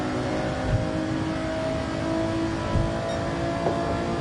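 An Alfa race car in Gran Turismo 7 drones at sustained revs during a league race, the engine tone steady and full with slight swells through the run.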